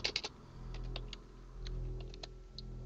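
Computer keyboard typing with a quick burst of clicks at the start and a few scattered keystrokes afterward, faint against a low steady hum.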